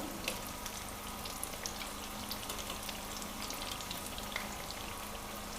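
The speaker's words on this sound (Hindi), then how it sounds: "ये हमारे पकोड़े बन रहे हैं। थोड़ी देर के बाद आप इसकी साइड चेंज कर दें। आंच आप हल्की पे ही पकाएं।" Pakoras fry in oil over low heat, a continuous even sizzle with fine crackling bubbles, steady and quiet, heard on its own without talk.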